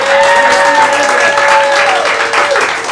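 Audience applause at an improv comedy show in St. Pete, a loud, sustained roar of clapping from a crowd with some bright tonal sounds running through it, lasting the whole moment.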